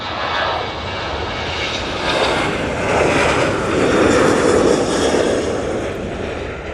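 Airliner taking off from Manchester Airport bound for Rome, a loud jet engine roar swelling and sustained, heard from the airfield with no talk.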